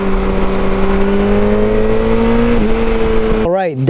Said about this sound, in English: That is the Yamaha FJR1300.